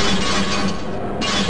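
Glass of an unbreakable window being struck in the video game Half-Life, giving a loud, bright shattering crash with a sustained rough ringing noise, alone without talk.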